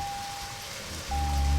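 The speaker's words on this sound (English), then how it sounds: "And it is raining now" Steady rain in the video game Deadly Premonition, a constant hiss of falling drops with a sustained tone and a low rumble swelling in near the end, no talk.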